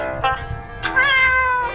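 A house cat meows twice, a short call followed by a longer, rising, drawn-out one, close and clear in a quiet room.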